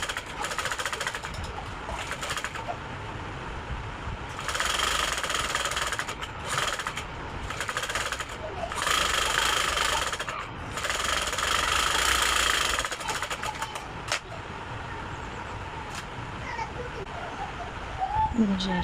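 Sewing machine stitching nighty fabric, a steady mechanical whirring run in several bursts of a few seconds each, close and moderately loud, with someone speaking between and over the runs.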